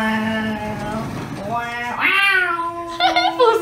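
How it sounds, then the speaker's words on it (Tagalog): A cat at a beach resort meows in a few drawn-out, rising and falling calls, close and clear, with a person's voice mixed in among them. "Pusa!"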